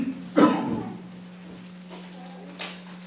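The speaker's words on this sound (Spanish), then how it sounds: "Ya nomás me queda la tos." A single sharp cough near the mic, with a steady low hum underneath and a couple of faint small noises afterward.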